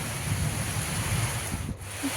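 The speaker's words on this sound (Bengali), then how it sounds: "চারিদিকে কিন্তু হাওয়া দিচ্ছে ঠান্ডা ঠান্ডা একটা ওয়েদার" A cold outdoor wind buffets the microphone during rainy weather, a continuous low roar that swells and eases, briefly dropping away near the end.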